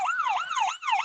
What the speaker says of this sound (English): that was the sound of American Ambulance